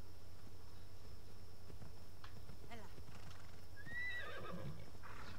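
A horse in the game Assassin's Creed Odyssey whinnies with a rising, trailing call and its hooves clip-clop steadily, set against a constant low background hum.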